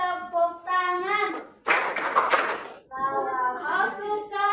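In a classroom, children sing a clapping song and break into a burst of quick, crisp hand claps between the sung lines, close and loud.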